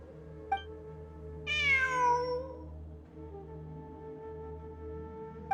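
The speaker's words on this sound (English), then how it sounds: "I'm not hearing things. It really is a cat." A single clear cat meow sounds in the Genshin Impact video game, a rising then falling mew near the listener, set against a quiet sustained ambient music drone.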